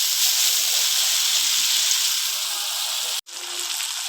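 Spiced masala mixed with sour yogurt sizzles in hot oil for katla fish kalia, a steady close-up frying hiss with one brief break near the end.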